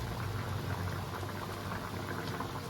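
A pot of chicken curry at a rolling boil gives off a steady, close bubbling and fizzing, constant and unbroken, heard alone without voices.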